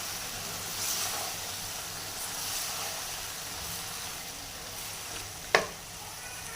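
Carrots, peas and other vegetables sizzle steadily in a hot pan, a close broadband hiss with one sharp clink of a utensil near the end and no talking.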